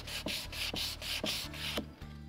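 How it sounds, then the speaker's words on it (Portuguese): A wooden herb planter edge is sanded by hand in about eight even back-and-forth strokes. The rasping rubs are close and steady, heard alone. "Eu vou lixar e vou aproveitar também para gastar um pouquinho aqui na borda"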